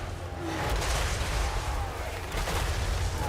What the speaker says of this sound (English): engage the Wizard Lord with the Trollhammer torpedoes